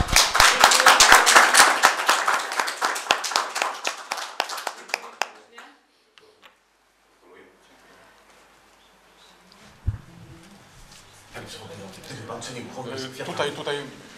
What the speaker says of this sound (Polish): Gratulacje i brawa.